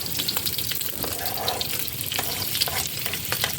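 Chopped onion tipped into mushrooms already frying in a hot pan, giving a loud, steady crackling sizzle with bright spitting bursts throughout and no talking.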